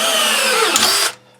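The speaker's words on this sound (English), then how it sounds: "I've got the DeWalt 20-volt drill, and of course you have to have it on the drill setting." A DeWalt 20-volt cordless drill set to drill mode drives an Astro Pneumatic ADR14 rivet adapter, a loud close whine that rises briefly, then cuts off abruptly, leaving near-quiet.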